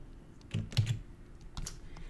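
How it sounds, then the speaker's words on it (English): A handful of keys pressed on a computer keyboard for a save shortcut, giving a few quick, close clicks with gaps between them against a quiet room. "So that time I just pressed Control S on my keyboard to save."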